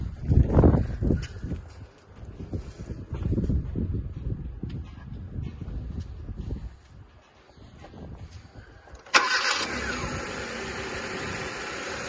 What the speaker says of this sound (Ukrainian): двигун непогано працює